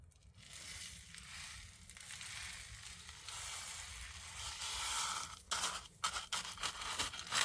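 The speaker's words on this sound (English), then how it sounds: "Another big scoop of the poultry grit." A big scoop of poultry grit pours into a moss bowl, a steady gritty rushing hiss of small stones sliding, ending with a few sharper scraping crunches, close and fairly quiet.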